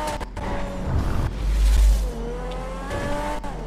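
A Verna car driven in the video game GTA 5, its engine revving up and down close by with shifting whining tones, one heavier surge in the middle and no voices.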